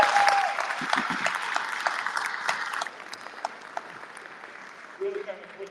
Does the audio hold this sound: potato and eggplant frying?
no